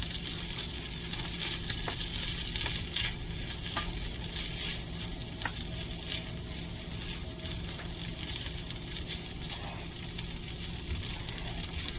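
Already-cooked crab heats in a frying pan for an omelet, giving a steady, fairly quiet sizzle with soft spatters and occasional stirring.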